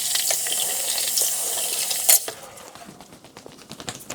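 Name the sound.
tap water rinsing a pepper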